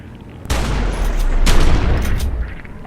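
Weapon fire at a stolen object in The Secret World, a sudden loud burst of shots and blasts starting at half a second, with a second strong hit around 1.5 s before the sound tails off.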